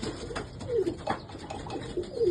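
Soft male pigeon coos roll out a few times over a low background hum, close by but quiet.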